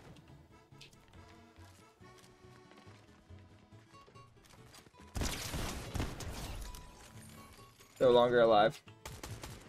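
Assault rifle fire in the Fortnite video game, a dense loud burst partway through with a sharp electronic effect after it, over a busy mix of game sounds while someone speaks.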